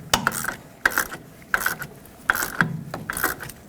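Ratchet wrench tightening the upper shock absorber bolt on a 2011-2016 Ford F-350 Super Duty, a close, loud run of clicking ratchet strokes in uneven bursts with no talk.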